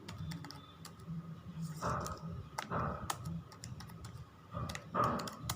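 Quiet, close computer keyboard typing while entering database fields, with irregular clusters of soft key clicks and short pauses between bursts.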